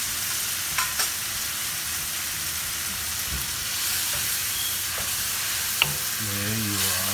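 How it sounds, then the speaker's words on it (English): Beef and broccoli with ginger, garlic and turmeric cooking in a pan after beef broth is added, giving a steady close sizzle with a few light clicks of stirring throughout. "To this I'm going to add my beef broth. Cook a little bit."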